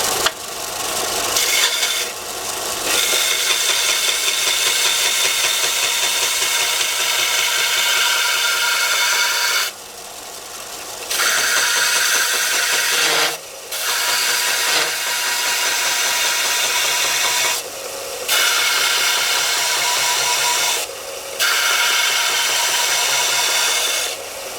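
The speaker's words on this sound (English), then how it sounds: "So now I will attempt to do the same thing to this corner with the piece of plywood." An Einhell TC-US 400 bench sander with a fresh disc grinds loudly against the corner of a piece of plywood, giving a continuous harsh rasp interrupted by a few brief pauses as the wood is lifted off and pressed back on.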